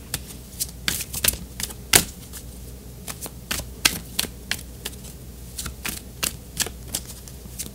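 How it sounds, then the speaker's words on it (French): Oracle cards are drawn and shuffled by hand, giving a steady run of crisp riffling and flicking snaps at close range, irregular but continuous, with no talk. "on va tirer une carte d'oracle"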